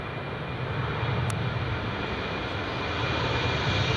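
A four-engine jet with CFM56 engines passes at Edinburgh Airport, its broad, even roar rising slightly as it goes by, heard on its own without talk.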